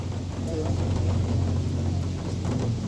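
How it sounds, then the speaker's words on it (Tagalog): Steady rain falling outdoors at a garden park with a roller coaster, a constant hiss and patter under low rumbling background noise. "Umuulan naman."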